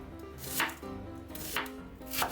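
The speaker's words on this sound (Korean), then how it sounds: "양파는 채 썰어주고" A knife slices an onion into thin strips on a cutting board, three crisp chopping strokes spaced about a second apart over a faint background hum, no voices.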